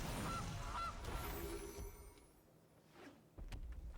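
A goose card being played in the MTG Arena digital card game sets off a couple of short honks early on. They sound against a busy game soundscape, followed by softer chimes and thuds, with no talk over them.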